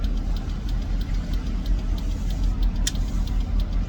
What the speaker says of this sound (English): This is a McLaren Artura.